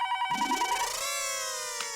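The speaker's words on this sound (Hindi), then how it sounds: "फोन है, लो, लगता है बबीता जी का ही फोन है।" An electronic telephone ring sounds in a home scene from a Taarak Mehta Ka Ooltah Chashmah comedy film. It is a loud, steady, piercing tone that continues without a break, with no talk over it.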